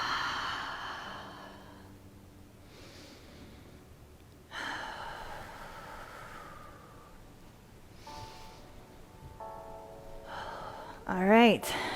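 Slow, deep breaths during a gentle seated yoga session: several long, airy inhales and exhales spaced a few seconds apart, soft and close, with a faint steady tone in the background.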